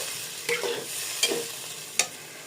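Spices with turmeric and coriander, plus a splash of water, fry in a pan, a soft steady sizzle broken by three distinct spoon scrapes and knocks against the pan, close and clear with no voices.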